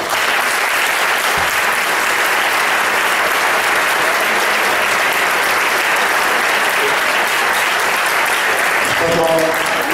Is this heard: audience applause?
yes